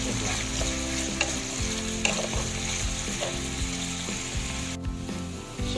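Chili peppers and garlic frying in a pan for a miswa dish with sardines, giving a steady, loud sizzle throughout, with occasional scraping and stirring clinks from a utensil against the pan.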